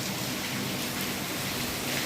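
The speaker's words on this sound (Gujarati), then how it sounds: "પાછો વરી વરસાદ આવી ગયો" Steady rain pours down again after a short break, heard from under shelter in a farm enclosure as a dense, even hiss with no pauses or voices.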